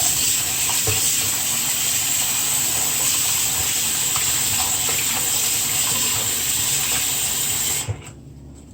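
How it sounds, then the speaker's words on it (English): Water runs onto raw goat meat in a bowl, a loud, steady close-up gush like a running tap that cuts off abruptly near the end. "So I'm gonna get some water on the goat."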